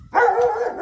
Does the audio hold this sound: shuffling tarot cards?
no